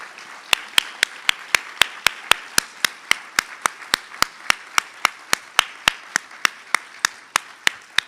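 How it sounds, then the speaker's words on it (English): Audience at a nursing excellence awards ceremony clapping in unison, a sharp, evenly spaced beat of rhythmic claps about four per second, loud and steady over faint background applause throughout. "one more round of applause"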